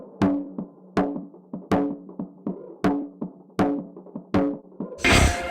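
A drum part in a mix with Soundtoys Devil-Loc distortion blended in subtly: evenly spaced punchy hits with short ringing tails, ending in a brief bright crash-like burst.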